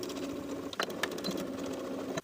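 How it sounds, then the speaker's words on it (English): A sewing machine runs steadily, edge stitching an elastic casing closed on a cover-up shorts set, a close, continuous rapid whir with a brief hitch partway through before stopping. "we'll edge stitch in line with the previous edge stitching to close this hole"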